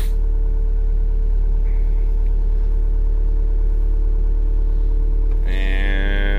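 A New Holland C238 track skid loader engine idles steadily at mid pitch close by, then its pitch climbs sharply near the end as it revs up.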